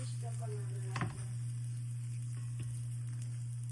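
A three-ingredient low carb roti cooks covered in a pan, giving a soft, steady sizzle over a constant low stove hum, with one brief knock near the start.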